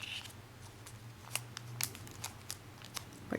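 Paper being creased and folded while shaping an origami mouse, giving a few soft, close crinkles and faint snips of paper against a quiet background with no talk.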